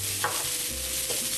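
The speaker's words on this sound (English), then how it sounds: "I'm just going to saute them. Stir them around real good." A pan of eggs sautés and gets stirred, giving a steady close sizzle with a couple of brief scraping strokes from the stirring.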